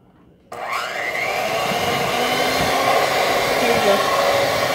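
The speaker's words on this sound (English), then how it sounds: "So now we got a mixer. A mixer to mix our stuff. Old school mixer." An old-school electric mixer beating cake batter switches on abruptly and runs with a loud, steady motor whine, close by and without a break, no voices.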